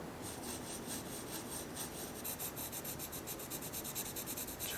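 A pencil makes rapid rhythmic strokes on paper while a tree is shaded in a landscape drawing, a close, soft scratchy rasping that quickens into regular hatching.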